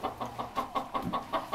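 A broody hen sitting on eggs gives a run of low, evenly spaced clucks, about eight pulses in quick rhythm, close by and without talk.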